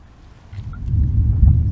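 Thunder from a huge lightning storm over Japan rolls in as a low, distant rumble that swells steadily louder over a couple of seconds, with no voices and only faint background hiss.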